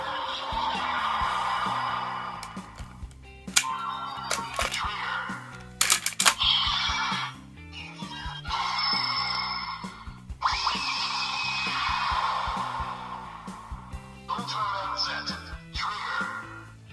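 A DX Ultraman toy transformation device reading an Ultra Medal plays electronic sound effects and jingles, with synthetic whooshes, chimes and bursts of music, interrupted by a few clicks and button presses.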